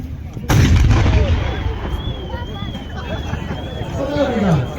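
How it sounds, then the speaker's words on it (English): A 6-pounder anti-tank gun fires once at a tank day demonstration, a loud close blast followed by a long rolling echo, with a crowd murmuring and voices in the background. "Now we shall engage with the 6-pounder."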